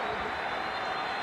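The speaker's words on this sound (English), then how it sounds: "Applause" A crowd applauds at a West Indies vs New Zealand cricket match in the Cricket 2003 video game, producing a steady, even wash of clapping at moderate volume.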